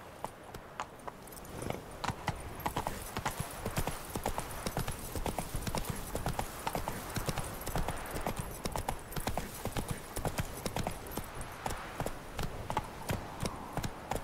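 Hooves of Roach, the horse in the video game The Witcher 3, clip-clop in a steady fast rhythm throughout, close and clear over a soft background bed, with a brief quiet lead-in before the gallop picks up.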